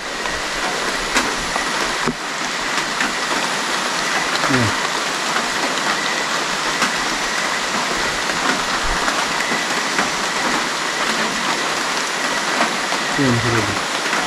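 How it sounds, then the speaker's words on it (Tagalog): Steady heavy rain pours continuously, a dense hiss of drops on surfaces, loud and close throughout. "Kasi umuulan na po."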